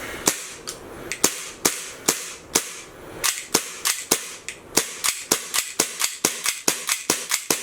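An Atomic Armoury green gas airsoft pistol firing a rapid run of about twenty sharp cracking shots, loud and close, irregular at first then settling into a quick steady rhythm.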